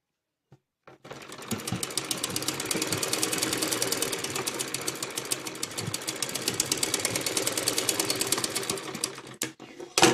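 A sewing machine stitches a frilled baby top, its rapid mechanical chatter starting after a single click and running steadily for about nine seconds, close and moderately loud, then stopping with a few knocks.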